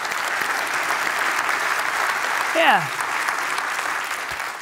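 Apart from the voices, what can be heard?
church congregation applause for the readers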